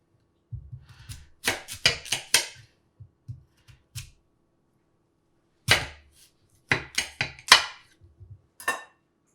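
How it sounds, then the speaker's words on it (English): A thick knife cuts through boiled sweet potato on a board in a home kitchen, giving a series of sharp, close chops and clacks in two clusters separated by a brief pause, with no talking. "you cut it, and make sure you have a good thick knife to help you do this part"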